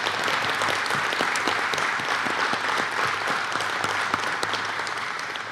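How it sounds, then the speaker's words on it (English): An audience applauds at a criminal justice and peace officer skills graduation ceremony, steady sustained clapping from a large crowd in a hall, fairly distant and even throughout with no talking. "you can certainly clap, yes."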